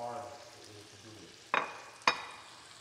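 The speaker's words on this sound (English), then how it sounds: "we're sauteing the saltfish" Saltfish sautéing in a pan for ackee and saltfish, a soft background sizzle with two sharp utensil clanks near the end, close by.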